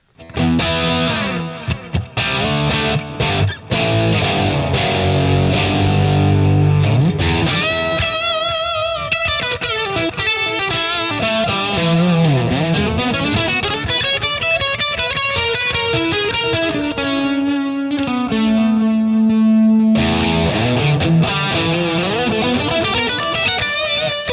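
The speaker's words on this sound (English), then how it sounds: "So that's the delay with the Plexi." Distorted electric guitar through a Plexi amp with delay, riffs and sustained notes with echoing repeats trailing behind each phrase, loud and continuous throughout.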